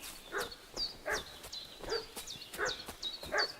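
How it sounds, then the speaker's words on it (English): Dog barking in the video game Kingdom Come: Deliverance II, a run of about eight sharp, evenly spaced barks heard at a moderate distance, with no talking over them. "What's that dog making such a fuss about?"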